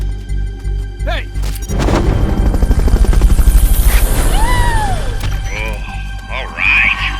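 Helicopter in the video game Metal Gear Solid Peace Walker, a loud rapid rotor chop swelling in after a sharp hit and holding steady, with electronic beeps and a voice over the top.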